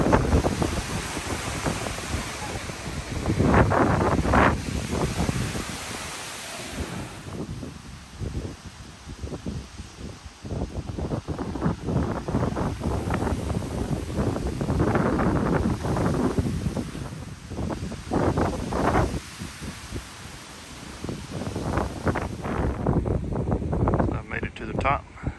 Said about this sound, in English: It's a little scary with all this wind, I'm not gonna lie.